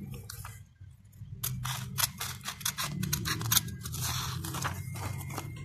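Paper snipped with scissors while folding a paper ninja star, a series of close, crisp cuts and rustles in quick uneven bursts, with no talking.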